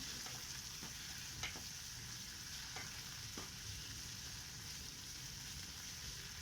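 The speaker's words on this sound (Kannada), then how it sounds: "ಈ ಸೊಪ್ಪು ಕೂಡ ಮೆತ್ತಗಾಗಬೇಕು, ಅಲ್ಲಿವರೆಗೂ ನಾವು ಇದನ್ನು ಫ್ರೈ ಮಾಡ್ಕೊಳ್ಳೋಣ" Onion, coriander and mint leaves frying in oil make a faint, even hiss, with a few soft clicks of stirring scattered through it, quiet and with no voices.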